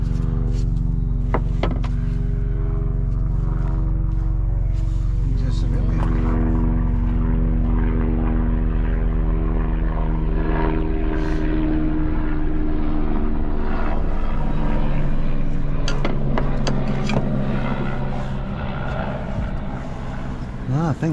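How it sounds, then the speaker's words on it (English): An air ambulance aircraft flying overhead, a loud steady engine and propeller drone that fills the whole stretch and eases slightly toward the end, with faint talk beneath. "I think that's the air ambulance."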